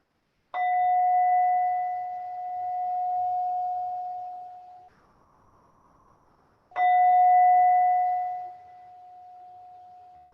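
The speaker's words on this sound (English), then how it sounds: "with the sound of the bell, our practice comes to an end" A meditation bell is struck twice, each clear ring sustaining and slowly fading, with a quiet pause between strikes.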